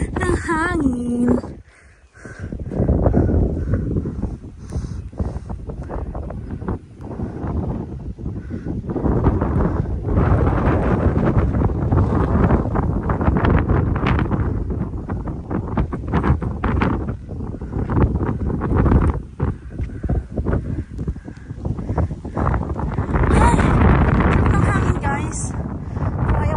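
Strong wind buffets the microphone in a continuous rough roar at an open spot at the top of a long stairway, with people talking now and then underneath.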